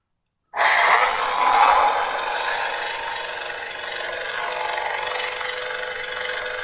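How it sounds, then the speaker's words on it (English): A custom lightsaber running a Kylo sound font: sudden ignition burst from silence, then a sustained crackling, shimmering hum that stays loud and steady to the end. "So quite a nice shimmer effect for Kylo's font"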